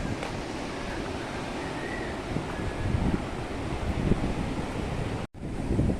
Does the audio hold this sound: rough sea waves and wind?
yes